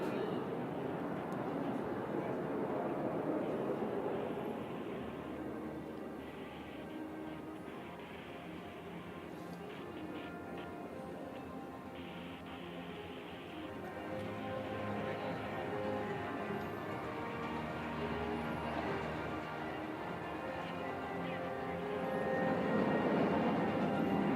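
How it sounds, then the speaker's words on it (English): A military aircraft flies a loop at an Indian Air Force air show over Chennai's Marina Beach, its engine roar swelling and fading at a distance over a crowd and open-air ambience, with announcer talk at times. "There goes Wing Commander Arjun Patel, pulling up for a loop."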